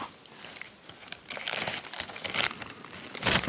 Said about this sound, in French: le bruit du papier soie